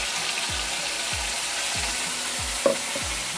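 Ground masala sizzles in hot oil in a kadhai over a low flame, a steady bright hiss with rhythmic scraping strokes of stirring repeating about every half second and a brief clink near the end.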